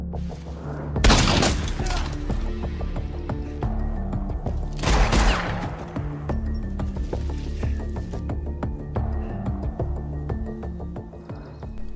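Gunfire exchange in a film scene, two loud sharp bursts of shots with crashing impacts, set against a busy background of music and effects.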